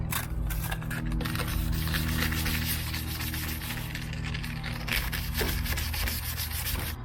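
Hand sanding a car headlight with sandpaper: continuous close, rhythmic rubbing and scraping strokes, steady and loud throughout with no voice over it.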